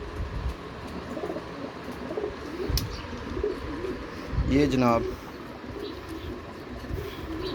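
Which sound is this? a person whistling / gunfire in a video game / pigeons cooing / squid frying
pigeons cooing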